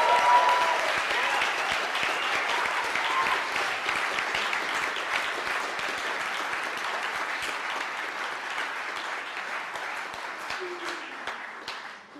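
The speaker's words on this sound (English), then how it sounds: "Let's give a round of applause for them." A sustained round of applause from an audience at a political victory speech, dense and steady throughout, loud and fairly close, fading slightly near the end.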